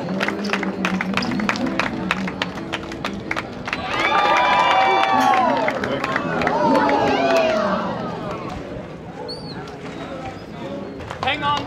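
A lively crowd at an outdoor water show in the Florida Keys cheers, whoops and claps, swelling to a loud burst of roaring cheers midway before settling, with voices shouting throughout.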